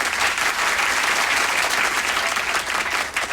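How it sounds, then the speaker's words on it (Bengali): An audience breaks into loud, dense applause after a stage performance, a steady wash of clapping from many hands held for a few seconds. "এদের সবার জন্য একটা জোরে করতালি।"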